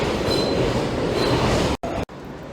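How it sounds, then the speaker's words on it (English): New York City subway train interior, a loud continuous rumble of the moving car with a faint wheel squeal, broken by two abrupt cuts near the end, no talking. "We're stuck on this train, and it said last stop."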